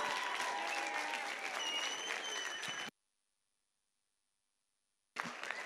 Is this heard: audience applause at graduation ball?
yes